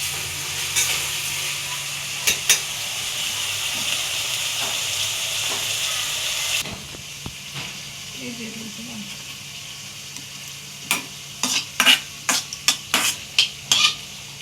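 Deep-fried ivy gourds being stirred in a pan, a steady frying hiss with a burst of spoon scrapes and clinks near the end, faint background voice.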